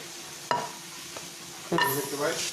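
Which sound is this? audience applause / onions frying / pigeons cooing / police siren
onions frying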